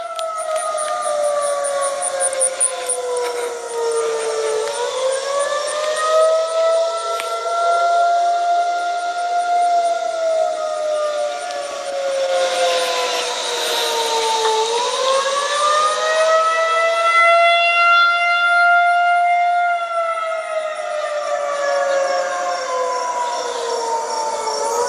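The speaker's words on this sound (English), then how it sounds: "So that is what a 2001-130 is supposed to sound like." A 2001-130 tornado siren sounds loud and alone, its wailing tone rising and falling in long sweeps as the rotating horn turns, with no talking over it.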